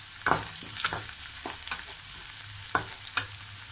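Onions and green chili sizzle in hot oil for a potato stuffing for mirchi bajji, while a spoon scrapes and stirs the pan every second or so, the crackle close and steady.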